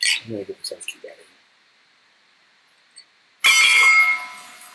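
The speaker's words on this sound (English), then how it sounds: "Okay, I'm gonna get this ice cube out of here." Ice cube being fished out of a glass of Blanton's bourbon, heard as a sudden loud burst of clinking and rattling that runs for about a second after a stretch of quiet, with brief talk near the start.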